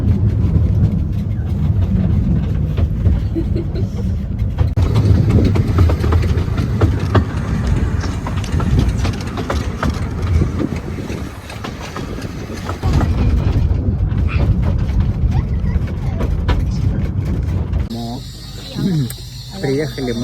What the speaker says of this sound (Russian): сейчас поезд поедет обратно на вокзал